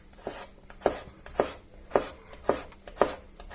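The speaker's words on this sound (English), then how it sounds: "I'm gonna chop them as finely as I possibly can." A knife chops garlic cloves finely on a board, giving sharp, close, evenly spaced taps about every half second, alone with nothing else behind them.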